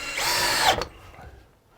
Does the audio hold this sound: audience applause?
no